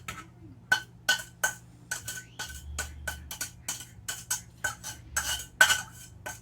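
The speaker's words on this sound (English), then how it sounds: "I'm going to mix them. I want the omelette very fluffy." Eggs are whisked in a bowl for a fluffy omelette, a utensil clicking against the sides in quick, regular strokes, close and fairly quiet, over a low background hum.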